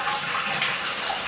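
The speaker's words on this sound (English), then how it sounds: "See if we get water coming out the right place and not out the wrong place." Water gushes steadily from a newly repaired faucet, a loud, close, continuous splashing rush with no voices.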